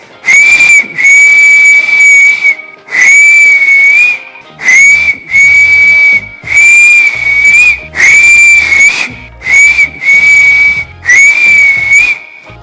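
Loud, shrill finger-in-mouth taxi whistle blasts, about eight sustained high notes in a row with short breaths between, each one piercing and close.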